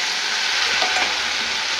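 Food frying in hot oil, giving a loud, steady bubbling sizzle heard close up with light stirring and no talk.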